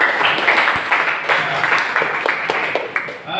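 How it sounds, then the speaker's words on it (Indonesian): A class applauds together in a classroom, a sustained patter of many hands clapping at moderate loudness that fades slightly toward the end. "kalian tepuk tangan untuk kita semua"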